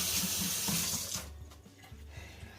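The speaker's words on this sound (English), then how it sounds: "When I freeze it, I wipe it off, rinse it." Tap water runs loudly into a sink as a T-bone steak is rinsed, a steady hissing gush that stops partway through, leaving faint handling sounds.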